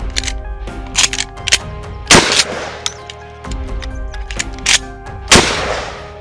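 Mossberg 500 or KelTec KSG shotgun fired from the ground during home-defense testing, two sharp, loud blasts about three seconds apart, each followed by a short ringing tail.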